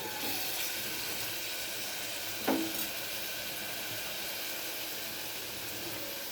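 Ginger and garlic sizzling in a pan of cooking amaranth stems, a steady close frying hiss throughout with one brief clink of a utensil midway, no talking.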